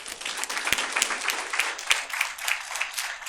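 An audience applauds to welcome a speaker at a session, steady clapping from many hands throughout with a few sharper individual claps standing out.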